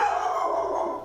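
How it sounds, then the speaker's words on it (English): A dog sound effect gives a sustained, loud, wavering howl that slowly falls in pitch, heard close and alone. "Seems like there's a dog as well."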